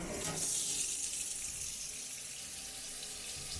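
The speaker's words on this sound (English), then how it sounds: "I'll start loading in my water." Water pours steadily into a home brewing kettle system being loaded with 37 gallons, a continuous close rushing hiss that holds even throughout with no talk.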